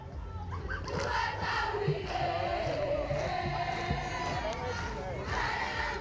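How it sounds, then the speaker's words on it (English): Arundel schoolgirls cheering and chanting loudly for their team at a field hockey match, a sustained mass of young voices shouting together from the sidelines, fairly distant and continuous for the whole stretch. "We have the Arundel girls cheering loudly for their team here"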